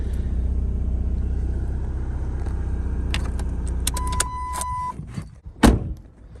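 A Chrysler PT Cruiser with a heater core bypass idles steadily, then clicks and clunks as it is put into gear and rolls forward, the low engine rumble dropping off near the end.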